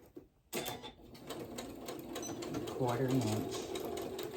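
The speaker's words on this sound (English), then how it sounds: "So just sew this up," A sewing machine stitching a braided twist placemat runs in a steady mechanical whir for several seconds, mid-level and close, with a person talking over it.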